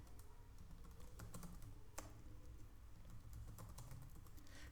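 Someone types on a computer keyboard, a quiet, close run of irregular key clicks with a sharper tap near the middle, steady for about five seconds with no talk.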